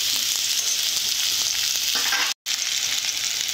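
Vegetables fry in a pan, giving a close, continuous sizzle and crackle that cuts out for a moment and then carries on unchanged.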